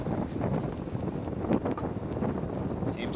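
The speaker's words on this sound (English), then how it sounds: "It's pretty windy" Strong wind on an open shoreline gusts steadily into the microphone, a continuous low buffeting roar with small rises and falls and a few faint knocks.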